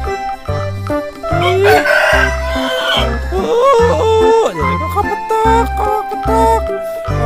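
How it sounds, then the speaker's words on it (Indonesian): Farmyard chickens clucking with a rooster crowing among them, close and fairly loud, short repeated calls in an uneven rhythm throughout. "Kok petok ayam"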